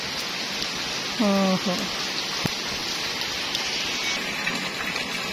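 Heavy rain pours steadily onto a flooding residential street as water runs into houses, a dense wash of falling water throughout, with a brief exclamation over it.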